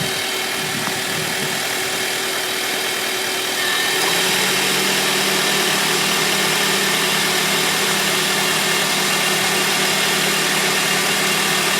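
A 7th-generation Honda Civic engine idles steadily, close and loud, and about a third of the way in the AC compressor kicks on at full blast, adding a firmer, deeper hum to the continuous engine drone.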